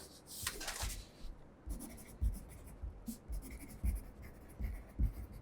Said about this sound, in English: Pencil to write my name.